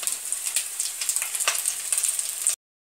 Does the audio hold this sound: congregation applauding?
no